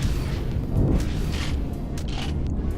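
Ship weapons firing in the game Empyrion: Galactic Survival from a Hammerhead heavy bomber, a continuous low rumbling roar with a heavier thump near the start and soft repeated impacts layered on top.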